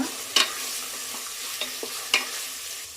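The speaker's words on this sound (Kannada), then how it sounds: "ನಾವು ಶುಂಠಿ ಬೆಳ್ಳುಳ್ಳಿ ಪೇಸ್ಟ್ನ ಏನು ಆ್ಯಡ್ ಮಾಡ್ಕೊಂಡಿದ್ದೀವಿ ಅದು ರಾಸ್ ಮೇಲೆ ಹೋಗೋವರೆಗೂ ಫ್ರೈ ಮಾಡ್ಕೋಬೇಕು" Ginger garlic paste cooks with masala in a pan for mushroom biryani: a soft sizzle underneath as a spoon scrapes and stirs, with a few sharper clinks against the metal.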